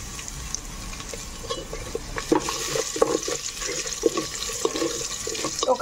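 Crushed garlic tipped into a pan for a mango and moong dal dish, then stirred: close scraping stir strokes over a steady sizzling wash, with no talking.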